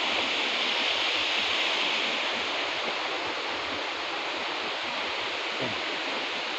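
A waterfall in Champasak province, Laos, pours as a dense, steady roar of rushing water, loud and close, unbroken for the whole stretch.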